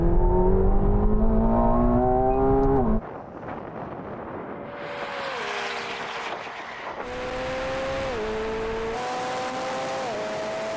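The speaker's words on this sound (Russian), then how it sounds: "Теперь поедем со скоростью 80 км в час на третьей передаче." McLaren 750S and 720S sports cars accelerating hard side by side in a drag race, engines rising through the gears with loud revving pitch sweeps and gear-shift drops, wind rushing over the microphone throughout.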